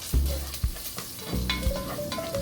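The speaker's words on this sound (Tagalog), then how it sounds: "nagluluto po ako ng ampalaya" Bitter gourd (ampalaya) cooking in a pan in a home kitchen, with soft sizzling and repeated scraping stirs and a few low knocks of the utensil against the pan, close and fairly loud.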